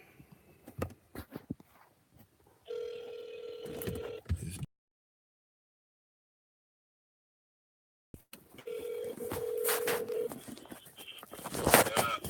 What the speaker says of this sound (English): And it's dialing.